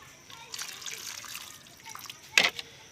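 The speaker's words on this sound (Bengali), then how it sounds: "এবার আমি জল দিয়ে দিচ্ছি" Water is poured into a basin of jackfruit seeds, a faint trickle and splash close by with one sharper splashing burst near the end, over quiet room noise.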